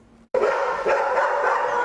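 Dogs bark at a county animal shelter, a sudden burst of loud, close barking that continues densely after a brief quiet start.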